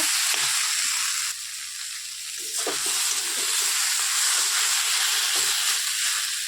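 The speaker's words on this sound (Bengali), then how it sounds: "এই পর্যায়ে জল দিয়ে দিলাম" Potato curry frying in a pan sizzles loudly and steadily after water is poured in, with a few stirring scrapes and clinks breaking through the constant hiss.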